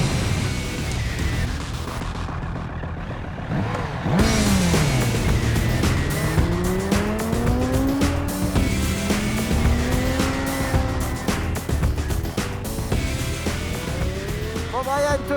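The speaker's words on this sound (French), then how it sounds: "Bon, Brian, te voilà au guidon d'une Triumph 765" A Triumph 765 motorcycle revs hard, its engine note climbing and falling through repeated gear changes, loud and close, with tyre squeal and a brief quieter pause near the start.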